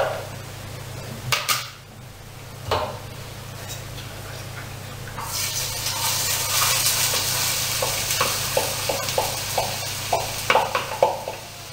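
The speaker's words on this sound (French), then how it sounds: "Dans un poêle, faites revenir l'oignon et le jambon." Onion and ham frying in a pan for quiche Lorraine, a loud steady sizzle that swells after a few opening knocks, with a run of rhythmic stirring clicks and scrapes of the utensil against the pan.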